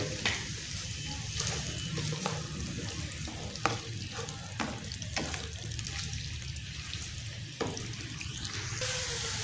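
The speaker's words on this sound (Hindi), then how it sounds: "और घी प्याज डाल रहे हैं, ऑनियन, इनको कर लेते हैं फ्राई।" Onions sizzle and crackle steadily in hot ghee, with occasional stirring scrapes and clicks, no voices.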